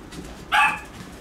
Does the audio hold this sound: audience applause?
no